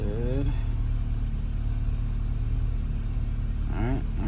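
A Golf R, GTI or S3 car engine idles steadily after a Cobb flex-fuel kit install, with a low, even rumble close by and someone talking briefly at the start and end.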